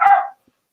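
One short, loud dog bark up close that cuts off abruptly, leaving silence afterward.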